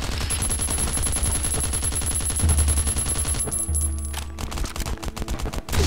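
Rapid automatic gunfire in the survival game Last Island of Survival, a loud, sustained stream of shots that breaks into scattered single bursts toward the end.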